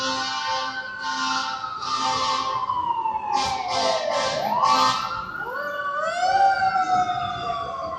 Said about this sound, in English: There's our siren.